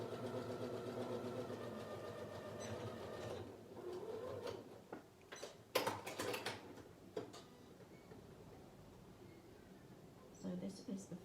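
A domestic sewing machine fitted with a quarter-inch foot runs steadily, stitching and back-stitching the first seam joining two fabric squares for a jigsaw cushion cover. The steady whir fills the opening seconds, then gives way to scattered handling clicks and rustling.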